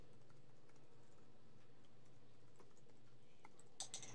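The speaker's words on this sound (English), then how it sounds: "I'm going to type in mine." Typing an email address on a computer keyboard: faint, quick keystrokes tap along under a low room hiss, with a few sharper key presses near the end.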